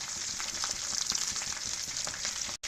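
Dal and aloo kababs coated in egg fry in hot, foaming oil, a steady close crackling sizzle that continues without a break apart from a brief dropout near the end.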